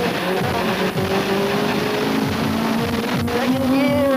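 A Mitsubishi Mirage race car in the 1999 Mirage Cup at Oran Park circuit, its engine droning loudly and steadily close by, with rhythmic pulsing and pitch shifts as it changes gears and revs.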